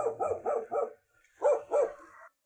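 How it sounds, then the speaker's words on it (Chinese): A dog barks in a nearly abandoned old mountain village in Guizhou, three quick barks, a short pause, then two or three more, fairly close and clear with no talk over them. "哎，这里还有狗叫呢。"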